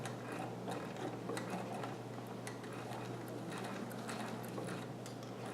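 A sewing machine stitches a Hawaiian shirt with a wide 3.5 mm stitch, a fast quiet rhythmic clatter of the needle mechanism running steadily up close.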